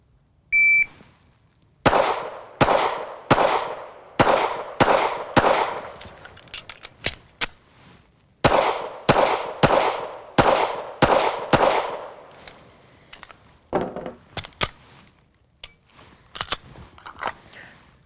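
A shot timer beeps once, then a drill of loud handgun shots cracks out in quick strings with short pauses, each report sharp and close, with a few scattered shots near the end.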